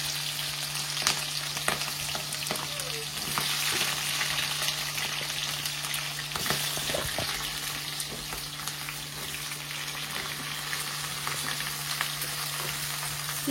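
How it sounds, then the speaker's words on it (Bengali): Onions frying in hot oil with cinnamon and cloves for a chicken curry give a steady, close sizzle, with occasional stirring scrapes and no voices. "এখন আগে পেঁয়াজটা ভাজা করবো"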